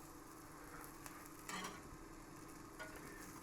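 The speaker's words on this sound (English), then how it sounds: "We have to put some cheese in the frying pan first." Cheese sizzles softly in a frying pan with faint stirring scrapes, quiet and steady with a few brief louder crackles.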